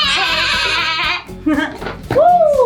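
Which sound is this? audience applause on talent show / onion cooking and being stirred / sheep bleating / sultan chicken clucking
sheep bleating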